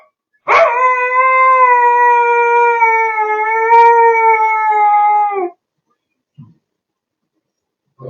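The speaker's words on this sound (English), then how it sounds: "He was howling." A dog howls in one long, steady, wavering tone lasting about five seconds, loud and close, followed by a couple of faint soft thumps.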